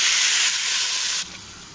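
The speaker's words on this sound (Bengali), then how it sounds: "তো ভাজা শেষ, আমি পানি দিয়ে দিব, ঠান্ডা পানি দিয়ে দিচ্ছি।" Cold water hits a hot frying pan after frying, giving a loud, close, steady sizzling hiss that drops abruptly in level partway through and keeps hissing more quietly.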